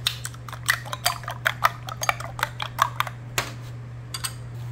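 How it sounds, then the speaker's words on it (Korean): Eggs with a little salt being lightly beaten in a bowl, with quick irregular clicking taps of utensil against the dish over a low steady hum. "계란은 이렇게 살짝만 풀어주세요. 여기에다 소금 조금 넣고 살짝 풀겠습니다."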